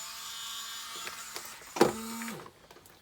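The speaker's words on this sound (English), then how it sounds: "Take my Dremel, I'm just going to clean off that little burr." A Dremel rotary tool spins with a steady high whine while cleaning a small burr off a metal fork for a fishing spinner; a brief harsher grinding burst near the end is followed by the motor winding down to quiet.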